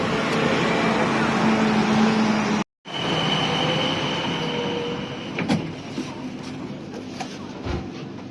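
Steady rumble of a moving Bangkok Skytrain with a brief dropout, then continued rolling noise with occasional clicks and rattles of the carriage.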